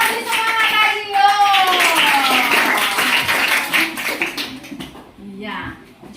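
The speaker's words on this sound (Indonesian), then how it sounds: "tepuk tangan untuk Vanessa." Children in a classroom clap together in a brief burst of applause, mixed with a teacher's voice and children's chatter.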